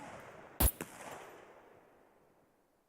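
An unsuppressed gunshot in the survival game SCUM, one loud sharp crack followed by a quieter second report, then a long fading echo tail into near silence.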